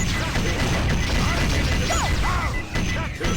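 Dense, loud audio from a Sonic Dreamcast remaster, with crashing effects, mechanical clatter and chirpy sound effects piled over busy music, everything pushed to a constant high level.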